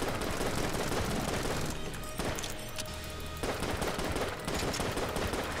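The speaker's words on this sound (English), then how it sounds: "the grenade launcher isn't doing diddly" Rapid, dense gunfire and blasts from the Enter the Gungeon video game, including a grenade launcher, a continuous loud barrage with a brief dip in the middle and no talk.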